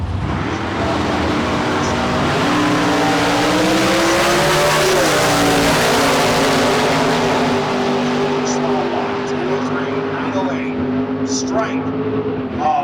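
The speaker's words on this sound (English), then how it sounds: "Here's Buzz Nielsen, Rexburg, Idaho, with a 67 Chevrolet Camaro." A 1967 Chevrolet Camaro drag racing down the strip at a street car event, a loud sustained engine roar climbing in pitch as it accelerates away, with an announcer talking over it.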